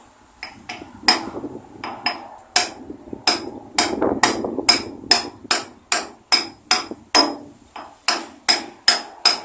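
Repeated metal-on-metal hammer strikes drive a Fordson Dexta tractor axle seal into place, irregular at first then settling into a steady rhythm, ringing sharply up close with no speech.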